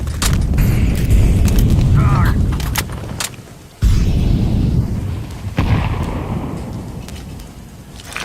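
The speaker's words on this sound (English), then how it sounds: "Grenade out. Grenade." Grenade explosions in a video game go off as repeated loud booms with rumbling low tails, including a sharp blast near four seconds and another around five and a half, amid gunfire-like cracks.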